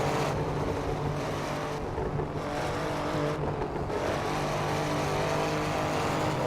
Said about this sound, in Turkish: Egzoz sesi çok güzelmiş. Böyle gazı bırakınca yüksek devirdeyken.